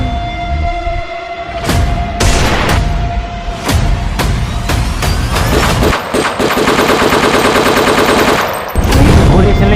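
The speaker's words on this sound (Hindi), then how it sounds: "गोली चलने की आवाज़ें" Loud bursts of gunfire, single shots followed by rapid machine-gun volleys, close and harsh, with short gaps between bursts.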